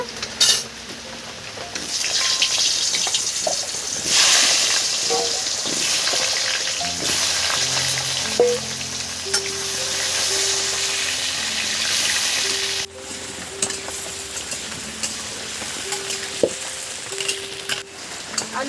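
Potatoes frying in hot oil for a masala egg curry, giving a loud, continuous sizzle with occasional stirring clinks and scrapes of a utensil against the pan.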